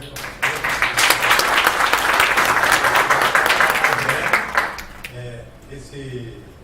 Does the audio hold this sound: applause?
yes